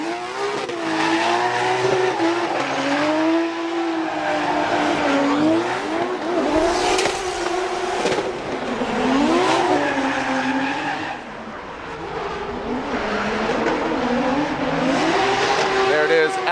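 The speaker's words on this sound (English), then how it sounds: "Listen to Adam LZ with this bye run and this beautiful BMW E36." A BMW E36 drift car with a 2JZ engine howls through a Formula Drift battle at Long Beach, its engine note rising and falling with tire squeal, loud and continuous under excited commentary.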